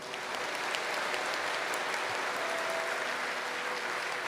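Devotees at a gathering for prostration pilgrims give steady, dense applause that fills the space evenly from start to finish, with no voices rising above the clapping.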